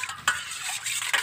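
Goat feed mixture is stirred to dissolve two spoons of seasoning, a steady wet scraping and sloshing in a container with a couple of sharper knocks, close and continuous, with no talking.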